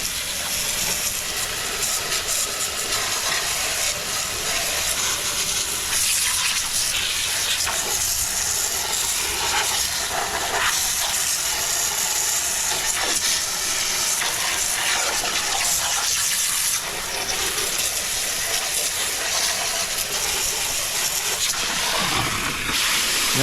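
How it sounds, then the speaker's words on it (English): Pressure washer jet spraying water into the cracks between rocks around a backyard fish pond, a steady loud hissing gush that runs unbroken and close throughout. "I'll take the jet and I'll kind of get some water sprayed in between the little cracks there"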